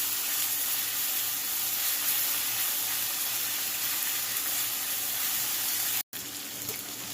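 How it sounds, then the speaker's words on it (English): Onions and ginger garlic paste fry in a pan for a mutton liver dish, producing a dense, even sizzle that holds steady throughout, broken only by a brief moment of silence near the end. "add some ginger garlic paste and fry this until you see a dark brown color all over"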